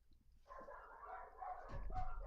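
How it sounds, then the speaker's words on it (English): Dogs bark in the distance, a faint, muffled cluster of barks and yips growing slightly louder toward the end. "I hear the dogs going nuts up there"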